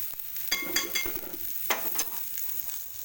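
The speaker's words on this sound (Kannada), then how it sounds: "ಇದು ಸ್ವಲ್ಪ ಶಾಲೋ ಫ್ರೈ ಆಗಿ" Chana dal paratha shallow frying in a pan gives a steady crackling sizzle, with a few sharper bursts and soft scraping as it is turned. No one talks over it.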